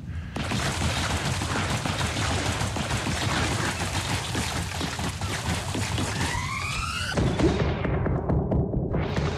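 Gunfire in the Ghost Song video game, a dense, loud barrage of rapid shots lasting several seconds, followed by rising whistling tones and a descending sweep as the firing stops.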